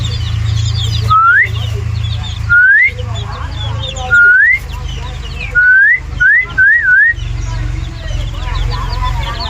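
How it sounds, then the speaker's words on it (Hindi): Someone on a desi chicken farm whistles about six short rising notes, the last few quick and close together, loud over a steady low hum and faint bird noises. "सीटी की आवाज़ सुन के सारे चुप हो गए"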